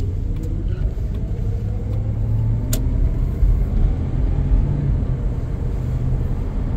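A 1977 Chevrolet Malibu with a 305 V8 heard from inside while driving, a steady low engine rumble and road drone through gear changes, with no speech.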